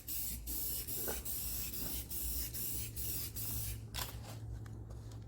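Spray paint hissing from a can in short repeated bursts, steady and close, with a low hum underneath and brief gaps between passes, no talking.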